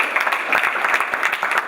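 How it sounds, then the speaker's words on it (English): An audience in a library claps for Roslyn, Long Island during a magic show, with a dense, continuous burst of applause that holds strong from start to finish. "Have a round of applause for Roslyn."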